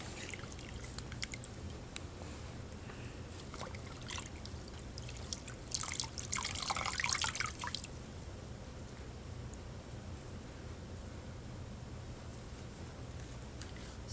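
Water trickles and drips quietly while soap is rinsed off a foot in a basin, a soft steady patter with a brief louder splash of pouring in the middle.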